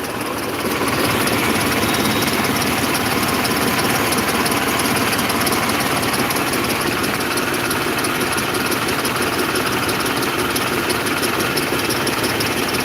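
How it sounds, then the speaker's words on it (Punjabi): A loud, steady engine drone runs throughout with a constant low rumble and rattle, a New Holland tractor idling close by during crop spraying in India; no voices. "new Holland tractor"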